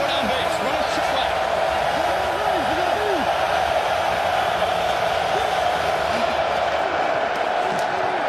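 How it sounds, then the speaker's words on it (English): A big stadium crowd at a 2020 XFL football game between the New York Guardians and St. Louis BattleHawks keeps up a steady, dense roar for several seconds, with no breaks in the wash of noise. "Crowd loud on 3rd down again."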